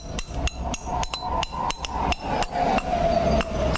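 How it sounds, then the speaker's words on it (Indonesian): A hammer taps a part into a Jupiter Z motorcycle cylinder head, producing a quick, steady series of close, sharp metallic knocks, around fifteen strikes in under four seconds. "masukin, pukul pakai palu, jangan pakai tangan,"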